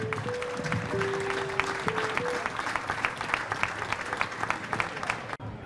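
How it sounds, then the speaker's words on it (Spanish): Fairly faint applause from the crowd at the FAGATE 2024 livestock fair opening ceremony, steady clapping throughout with an underlying hum, cutting off abruptly near the end. "pero un fuerte aplauso para todos ellos."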